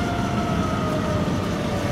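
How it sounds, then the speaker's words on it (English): A steady, droning siren tone holds continuously under a rumbling background roar, loud and unbroken. "Middle of a tornado siren."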